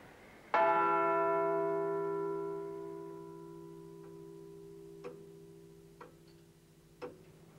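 A church bell on an automatic ringing system strikes once, loud and ringing, its long hum fading slowly while a few faint ticks and clicks sound from the mechanism.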